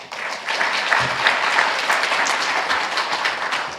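A church congregation claps at a Sunday afternoon service celebrating graduates of lay training, a dense, steady wash of many hands that swells quickly and holds for a few seconds.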